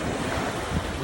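Strong sea waves on a Bicol beach roar continuously with wind buffeting the microphone, a loud, close, unbroken surge.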